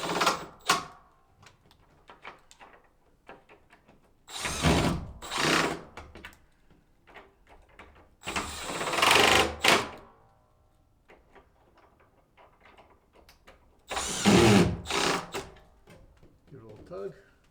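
A shop light fixture is screwed into place overhead, with several loud, separate whirring bursts of a screw being driven, spaced seconds apart among quieter handling clatter and a voice talking.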